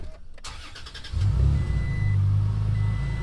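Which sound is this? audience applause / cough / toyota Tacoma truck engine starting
toyota Tacoma truck engine starting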